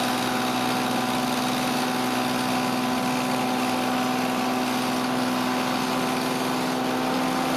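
A chipper shredder converted to an electric motor runs steadily at about 3,700 RPM, a constant loud mechanical hum with a strong steady tone and rattly vibration, unchanging throughout.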